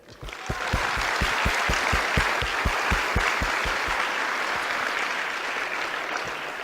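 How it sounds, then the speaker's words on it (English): Audience applause for the competing teams at a FIRST Tech Challenge robotics championship opening ceremony, a broad roar of clapping over a steady beat of thumping music that drops out partway while the applause continues. "a big hand, a round of applause for every team that's here today"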